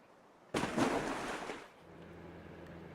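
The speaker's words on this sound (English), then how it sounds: "Wow, that was a really loud splash." A loud burst of splashing water from a video game hits suddenly, rushes for about a second, then drops away to a low quiet hum.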